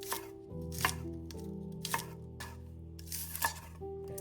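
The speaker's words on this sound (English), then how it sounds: "Then cut 1 green onion into small pieces." A knife chops a green onion into small pieces on a cutting board, giving about eight crisp, evenly spaced taps over quiet background music.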